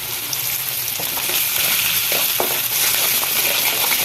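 Large onions with salt fry in a pan for an egg and capsicum pepper gravy, giving a steady, fairly loud broadband sizzle with a few soft stirring clicks and no voices.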